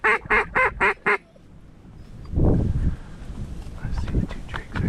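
Five sharp, evenly spaced duck quacks sound from a call during an afternoon waterfowl hunt, then go quiet before a rough rush and splashy swishing as drakes come in to land.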